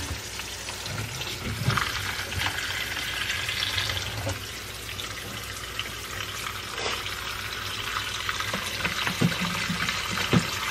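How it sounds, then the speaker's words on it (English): Water streams steadily into a crockpot for several seconds, a constant splashing rush with a few light knocks and no talking. "and put some water in here"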